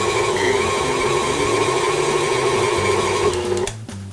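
An electric mixer whirs steadily through blueberry breakfast cake batter, a loud continuous motor drone with shifting tones, stopping abruptly near the end.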